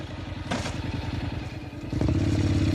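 A motorcycle engine chugs in a steady idle with a clattering knock partway through, then revs louder and rougher toward the end as it pulls away.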